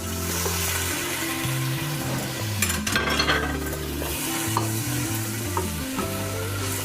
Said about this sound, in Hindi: तो साथ ही हरी मिर्चों का पेस्ट भी डाल दूँगी।